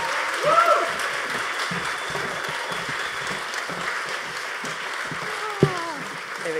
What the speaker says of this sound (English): A huge round of applause to Mikaela Loach